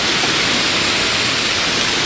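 Dussel River water rushing steadily past in Düsseldorf, a dense, loud, continuous broadband wash like a small weir or fast stream, with no talking over it.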